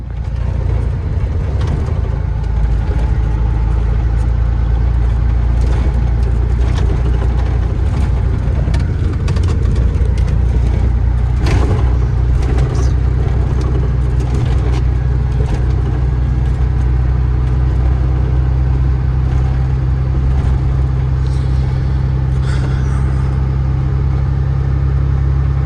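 A Freightliner FLD 120 truck engine idles nearby in a loud, constant low rumble, with small clicks and rattles scattered through it and no one talking.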